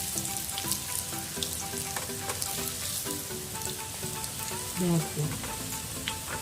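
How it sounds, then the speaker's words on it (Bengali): Chicken pieces fry slowly over low heat in a pan for chicken labanga latika, giving a steady, close sizzle with occasional stirring, while a voice briefly speaks. "হালকা আঁচে এটাকে ভাজতে হয়, বেশি জোর আঁচ হলে হবে না।"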